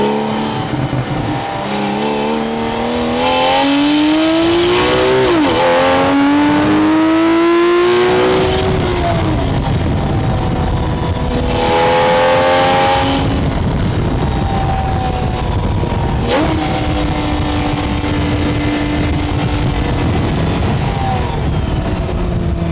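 Porsche 911 GTS flat-six engine revving hard and accelerating through rising pitch sweeps, with gear-change dips and repeated surges, very loud and close with no voices.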